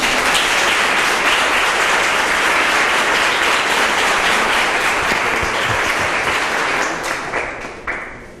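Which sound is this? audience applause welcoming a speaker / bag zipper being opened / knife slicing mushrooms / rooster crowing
audience applause welcoming a speaker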